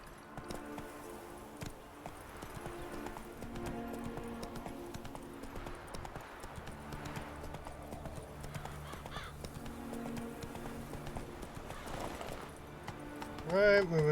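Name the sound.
horse Roach galloping in The Witcher 3 video game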